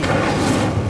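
A short burst of the Incendio fire spell in Hogwarts Legacy: a dense, roaring whoosh with a soft thud, loud and close for about a second.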